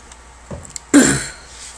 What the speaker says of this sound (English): all this eyeshadow is making me cough.